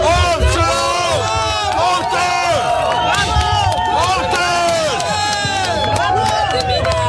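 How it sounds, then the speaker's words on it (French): A crowd boos and jeers at French politician Sébastien Lecornu, many overlapping shouting voices forming a loud, continuous outdoor hubbub with rising and falling yells. "il a d'abord été accueilli ce matin sous les huées"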